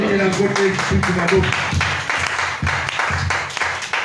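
A church congregation at a sermon claps and cheers loudly and continuously, with voices mixed in with the applause throughout.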